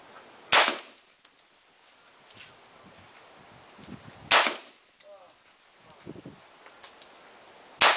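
Gun test firing outdoors: two loud, sharp gunshot reports several seconds apart, with a third shot starting at the very end. Faint rustling and small sounds fill the gaps between shots.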